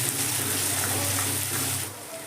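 Crushed garlic frying in oil in a pan while being stirred, a dense, steady hiss of sizzling that eases slightly near the end, close and moderately loud.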